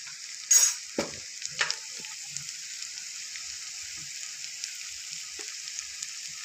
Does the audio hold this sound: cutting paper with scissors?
no